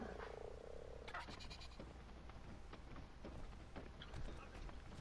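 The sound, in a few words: frog croaking in video game Ark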